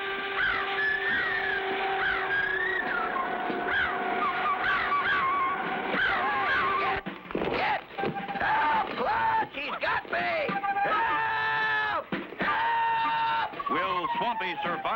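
A giant cartoon bird honks and squawks in loud, repeated wavering calls during an attack scene, with voices and dramatic sound effects around it.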